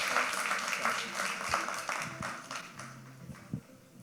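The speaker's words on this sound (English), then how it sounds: "How about one more big round of applause for Anaya?" Audience applause for a young competitor at a junior entrepreneur pitch competition, a brief round of crowd clapping that fades out over a few seconds.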